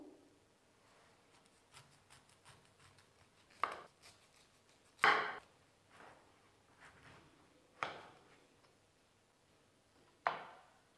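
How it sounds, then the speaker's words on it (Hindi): A knife cuts through a small jackfruit, giving a few sharp, isolated chops against a board, spaced a couple of seconds apart in a quiet setting. "मैं यहाँ पे नाइफ से इसे कट कर लेती हूँ"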